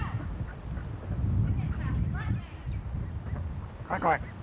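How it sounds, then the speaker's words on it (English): Ducks honk and quack in a few short bursts, the loudest near the end, heard beneath a person talking close by outdoors. "see the ducks."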